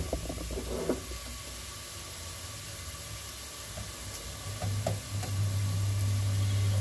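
Chicken roasting in a pan for Chicken alla Paesana, a steady soft sizzle with occasional clinks and light stirring, continuous and close, no talking.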